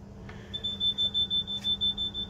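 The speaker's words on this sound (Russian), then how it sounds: "датчик дыма сработал" A smoke detector goes off indoors, sounding a fast series of shrill, evenly spaced high-pitched beeps over a low steady hum.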